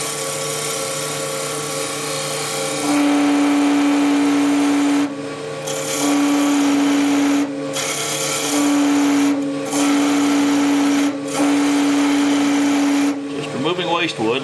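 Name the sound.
wood lathe turning, removing waste wood with spindle gouge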